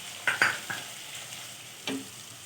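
Chickpeas fry with spices for street-style cholay as a spoon scrapes and stirs the pan in a few short, close strokes over a low sizzle.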